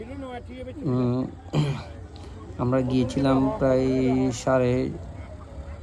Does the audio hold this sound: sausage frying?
no